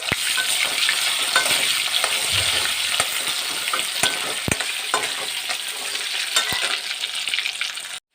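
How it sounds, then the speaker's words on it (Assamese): Sliced potatoes fry in oil in a pan, a steady loud sizzle with occasional sharp crackles and pops, heard up close with no talking. "মই এইখিনি তেলতে আলুটো পিছি ভাজি ল'ম।"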